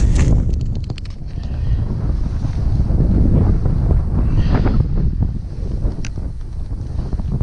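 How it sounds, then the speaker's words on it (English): Strong wind buffets the microphone in steady low rumbling gusts on an ice-fishing trip at Hillscreek Lake, with open-air whooshing throughout and no voices. "Windy today,"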